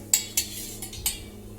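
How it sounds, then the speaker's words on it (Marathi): A metal ladle clinks against a pot several times in short, separated strikes, spoon-on-steel taps while hot oil is poured over salt for a Khandeshi raw mango pickle; quiet kitchen, no talking. "पळीनी हळूहळू करून सर्व तेल घालायचं आहे"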